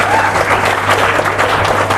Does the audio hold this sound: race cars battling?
no